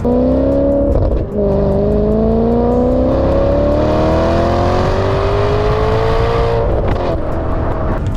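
A Maserati sports car engine pulls hard from first gear, its pitch climbing steadily through one long acceleration, then briefly drops and climbs again; loud and close.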